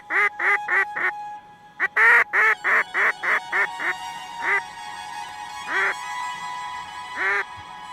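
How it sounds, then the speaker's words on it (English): Mallard ducks quack nearby outdoors, a rapid series of loud nasal quacks in quick bursts, then slower, spaced calls toward the end, with no talking. "All mallards."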